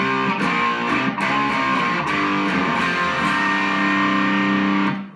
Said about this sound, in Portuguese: Consegue um som, uma distorção bem leve.